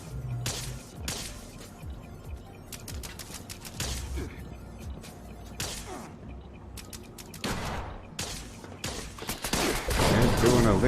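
Shooting in Fallout 76: a string of sharp gunshots fired at irregular intervals, some in quick pairs, over a quieter background, with a louder, rougher burst building at the end.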